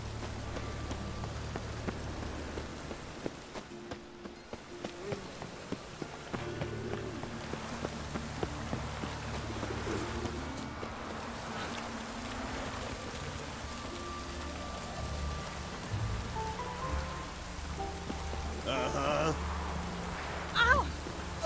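Steady rain falling on surfaces in a streamed zombie video game, a continuous close patter with faint footsteps and other game sounds mixed in.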